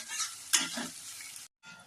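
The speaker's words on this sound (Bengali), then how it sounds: "পেঁয়াজটা ভালো ভালো করে ভাজা করতে হবে, যতক্ষণ না পেঁয়াজটা লাল না হবে ততক্ষণ আমাদের পেঁয়াজটা ভাজতে হবে।" Onions sizzle in a hot pan as a spatula scrapes through them, a short stirring sweep over steady frying hiss, then a brief silence.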